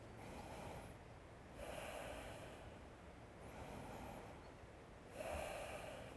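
Bhastrika pranayama bellows breathing: four loud, forceful breath strokes through the nose, each a rushing snort lasting about a second, alternating in a steady slow rhythm, close and alone with no talk.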